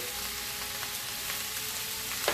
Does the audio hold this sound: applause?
no